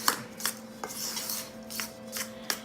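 Butter knife cutting butter into flour in a bowl, quick light scraping strokes with metallic clinks against the bowl, close and fairly quiet.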